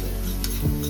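Spinach gravy with garam masala sizzles steadily while frying for palak paneer, a brief close hiss with a light stirring scrape partway through.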